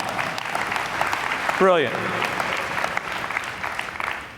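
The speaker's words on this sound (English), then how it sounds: "Give Todd a round of applause." Sustained audience applause welcoming Todd onto the stage at a live show, a steady dense wash of clapping with a brief spoken word partway through.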